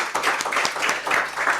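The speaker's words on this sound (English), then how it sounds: "Let's give a round of applause to Mount Kenya University" Brief applause at an African scientific congress for the host Mount Kenya University, a hall of clapping hands heard close, with distinct rhythmic swells of claps over a steady background.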